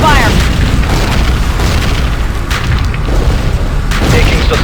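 Dense gunfire and repeated booming explosions from the Ground Control 2 video game form a loud, continuous battle din, with a radio-style voice speaking over the combat.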